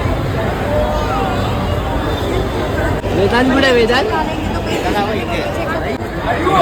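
Crowd chatter fills a busy ticket counter at Virar railway station, a steady dense babble of many voices close around, with a nearby person talking over it.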